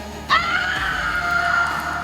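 A woman's piercing, sustained scream rings out after a brief quiet, holding one long wavering note for nearly two seconds over a low background hum.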